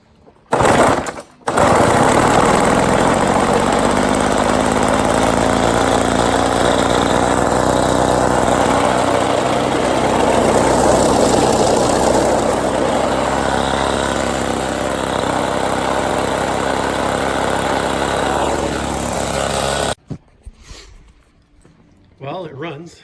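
A Toro Sno Pup snowblower's small engine runs steadily and loud for most of the stretch, a buzzing rough drone that cuts off near the end, leaving quiet with a few faint knocks.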